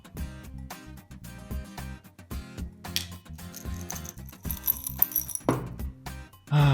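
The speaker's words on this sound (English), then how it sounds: "For simplicity, I'm changing the screws for a more practical one." Small metal screws clink and rattle as they are sorted by hand during a toaster repair, with scattered light metallic taps and shuffles close by, louder clatter near the end.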